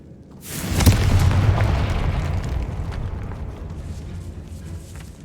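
A Confringo fire spell explodes in the video game Hogwarts Legacy, a sudden heavy boom that rolls into a long rumbling, crackling decay lasting several seconds.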